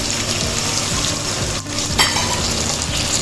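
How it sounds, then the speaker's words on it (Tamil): Chopped tomatoes tipped into onions and chillies sautéing in a pan for an elephant yam and dried fish gravy, a loud close sizzle with wet frying crackle and a brief clink of a utensil, no voices. "நம்ம வந்து கட் பண்ணி வச்சுருக்கிற தக்காளி சேர்த்துக்கணும்"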